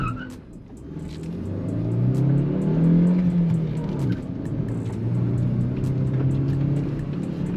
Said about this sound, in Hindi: करते हैं कार को लॉन्च। Raving till 5000 RPM,